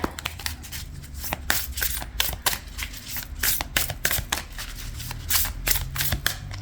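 Tarot cards shuffled and drawn from a deck during a reading: a steady run of quick papery flicks, riffles and slides, close and fairly loud, with no talking.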